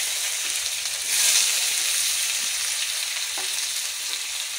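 Dry red chillies, whole cumin and chopped onions sizzle hard in hot oil in a pan, a loud steady crackle with a brief surge near the start and faint stirring scrapes, no talk.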